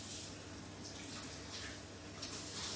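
Tap water runs steadily into a kitchen sink as food is rinsed, giving a soft, continuous hiss with faint splashing.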